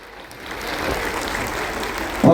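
Audience applause at a lively stage program at the Divya Jyoti Jagrati Sansthan camp during Mahakumbh 2025 in Prayagraj, a steady crowd clapping that swells slightly and stays dense throughout, with a louder burst near the end.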